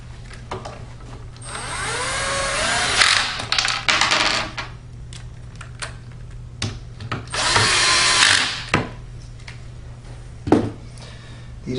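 A power drill whirs in two close, loud bursts while tightening bolts on a Martin Yale 7000E machine, with clinks and tool handling in between and a steady low hum underneath.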